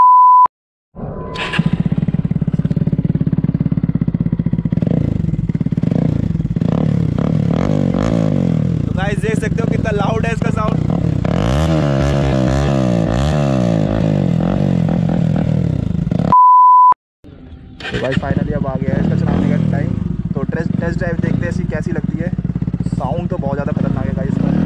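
A Bajaj Pulsar NS 160 motorcycle with a full-system Akrapovic exhaust rumbles and revs repeatedly at close range with a throaty, crackling exhaust, framed by short beeps at the start and midway.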